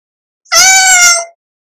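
A single clear, drawn-out cat meow, close and fairly loud, on its own.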